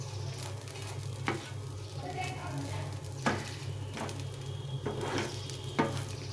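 Rice for a Jagannath bhog dish fries gently on low heat, a soft continuous sizzle broken by periodic scraping strokes of a spatula stirring the pan.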